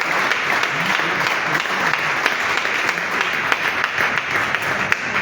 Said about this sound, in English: I would like you to just clap for yourself for this great initiative